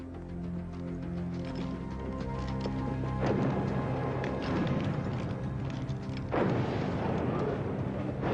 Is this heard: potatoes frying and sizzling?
no